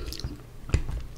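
Close, quiet chewing and soft squishy bites of pesto pasta eaten with a fork at lunch, a few moist mouth sounds spread across a short moment with no talking.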